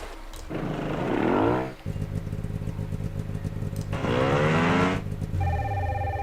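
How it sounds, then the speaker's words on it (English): A phone rings in the Nancy Drew: Sea of Darkness video game, with two clear, warbling ring bursts separated by a pause and a steady background hum underneath. "Oh, phone call."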